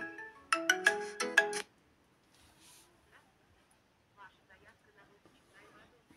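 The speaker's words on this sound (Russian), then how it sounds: "Кто-то звонит." A phone ringtone plays a short, loud electronic melody of bright repeated notes for about a second and a half, then stops; quiet, sparse talk follows.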